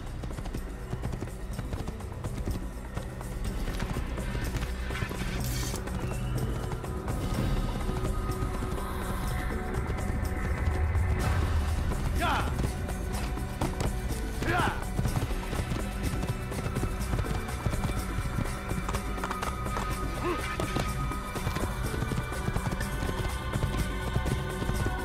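Horse hooves clip-clop steadily at a trot in Assassin's Creed on PC, mixed into a dense, constant game soundscape with music and effects throughout.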